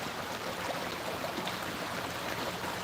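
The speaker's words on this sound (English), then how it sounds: "Fall asleep to the sound of the water." Water flowing steadily and close by, a continuous broadband rush with no breaks or voices.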